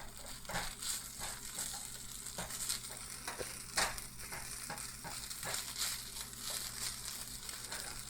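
Carrots stir-fried over medium heat in a pan, a steady close sizzle with repeated scraping and tossing strokes from a utensil, continuous throughout with no talking.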